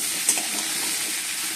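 Soaked chickpeas and peanuts fry in a pan with a loud, steady sizzling hiss and a light stirring scrape near the start, no voices present.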